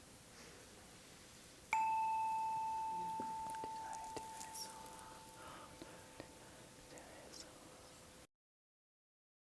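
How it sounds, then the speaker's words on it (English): Meditation bell struck once at the start of a mantra recitation, a clear bright ring with a long slowly fading resonance in a quiet room, with faint soft background sounds. "I'm going to ring the bell now"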